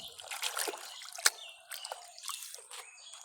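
River water trickles and drips at a riverbank as freshly picked greens are rinsed, with soft splashes and one sharp splat midway, close and fairly quiet.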